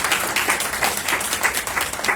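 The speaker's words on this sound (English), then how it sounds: "So give a round of applause for that." Brief burst of audience applause at a community town hall, a continuous patter of many hands clapping at moderate loudness with no pause.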